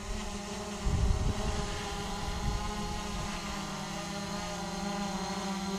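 Attop W70 GPS drone descending, a steady buzzing propeller whine nearby, slightly louder at first and then holding level, with no talk.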